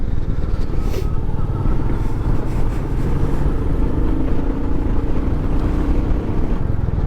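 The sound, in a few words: Royal Enfield Meteor 350 motorcycle riding in third gear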